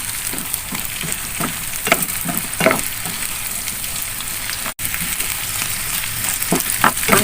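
Beaten eggs frying in a pan with green beans and tempe for orak-arik, giving a steady close sizzle broken by occasional crackles and soft stirring scrapes.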